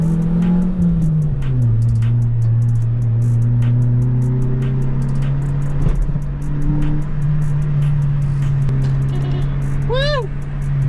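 An SR20-powered Infiniti G20 pulling away, its engine droning loud and close with a rev rise, then a brief horn toot near the end; a voice speaks over it.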